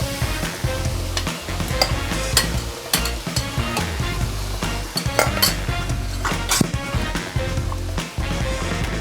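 Chopped tomatoes sizzle in a hot pan for a bolognese sauce while a utensil stirs them, scraping and clinking against the metal in irregular bursts over a constant loud frying hiss.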